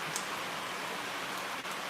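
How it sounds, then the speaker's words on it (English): Steady rain falling on a farm with hay fields, a soft continuous hiss that stays even and fairly quiet throughout, with no voices over it. "we need the rain. Our hay fields need it desperately."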